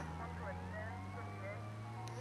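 A police siren in Grand Theft Auto: Vice City – The Definitive Edition wails steadily in the background, rising and falling at moderate volume beneath a constant low engine drone.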